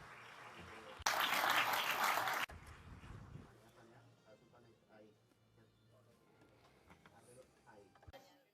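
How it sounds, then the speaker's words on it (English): A business forum audience breaks into loud, dense applause lasting about a second and a half, which ends abruptly before speech resumes in the hall. "We would like to welcome you and give them a round of applause."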